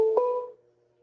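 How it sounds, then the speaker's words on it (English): A computer ringing with an incoming internet call gives a single clear electronic ring tone with a brief accent near the start, fading into a faint sustained hum, alone without talk. "Can y'all hear my computer ringing?"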